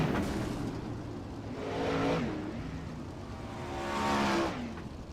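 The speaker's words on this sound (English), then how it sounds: "the California Lightning Sprints, 360 non-wing sprint car series" 360 non-wing sprint cars racing at Lanier with the California Lightning Sprints series, engines roaring past in two loud swells with rising and falling pitch, no talk.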